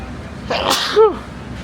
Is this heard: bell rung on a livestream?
no